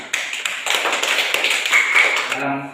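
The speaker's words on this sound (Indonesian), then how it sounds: "Tepuk tangan dulu." A classroom of students claps hands together in a short burst of applause, a dense patter of close claps that swells and then fades.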